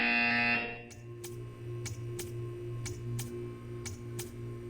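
A loud buzzer blares briefly at the start in the game Portal 2, then gives way to a series of evenly spaced sharp ticks over a steady low mechanical hum.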